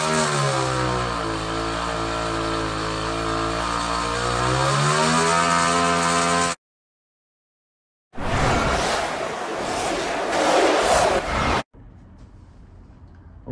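A 60cc two-stroke engine fitted with a hydrogen carburetor runs with a loud, buzzing drone that rises in pitch as it revs, then cuts out; after a pause a harsher roaring burst follows before a quiet tail.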